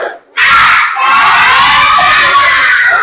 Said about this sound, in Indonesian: Coba tepuk semangat dulu.